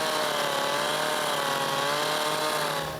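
A chainsaw cuts into wood for a carved sculpture, giving a loud, steady, high-pitched buzzing roar that holds for the whole stretch with no voices.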